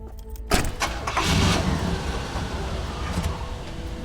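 A 1977 Cadillac DeVille engine cranks and fires with a sudden loud burst, runs roughly for a few seconds, then fades as it stalls, heard close by.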